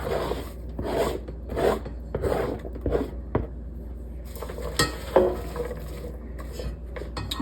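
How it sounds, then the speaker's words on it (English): Chopped onions, celery and thyme are added to a pot, giving scraping, rubbing and clinking utensil sounds in irregular bursts, with quieter stretches between, up close. "So I'm going to put our onions, our celery, and our thyme in here."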